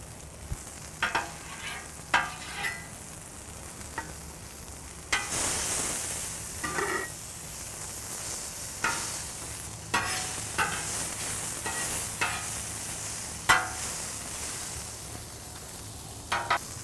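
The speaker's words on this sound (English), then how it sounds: "So while these guys are cooking, we're going to get those chilies on the flat top." Green chilies cooking in a little oil on a flat top griddle give a steady broad sizzle with repeated scraping and stirring knocks, close and fairly loud throughout, with no talk.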